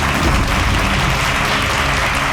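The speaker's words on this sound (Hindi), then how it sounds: "जोरदार तालियां इनके लिए" Loud, sustained applause from a crowd, dense clapping that fills the whole stretch without a pause.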